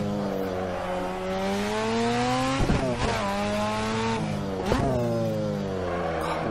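A rotary-engined car in the Assetto Corsa video game accelerates hard on a mountain touge road, its buzzy, high-pitched engine note climbing through several gear changes, with brief tire squeal at each shift.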